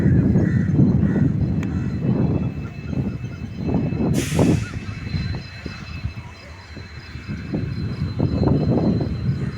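A local train running past at Pamban, a steady rumbling roll with rhythmic clatter throughout, joined by a brief hiss of air-brake release partway through, close and fairly loud.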